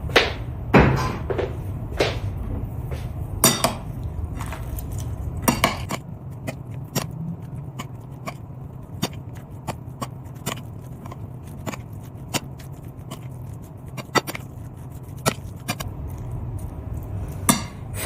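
A spoon stirs curd rice with salt in a bowl, giving a long series of irregular, close metallic clinks and scrapes over quiet background noise.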